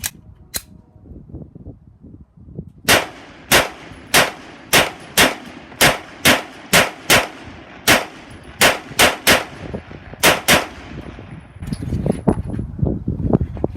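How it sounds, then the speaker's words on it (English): A Hudson H9 pistol fires SIG 147 grain 9mm match jacketed hollow points in a quick string of about twenty sharp, loud, close reports. The shots come at an irregular pace with short gaps, then rumbling handling noise follows. "Next one's going to be the SIG match. It's a 147 grain match,"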